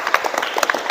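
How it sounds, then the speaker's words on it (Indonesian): A classroom group claps briefly for a student who asked a question, scattered hand claps across under a second, moderately loud and close with no talking. "Oke, tepuk tangan dulu dong untuk yang bertanya."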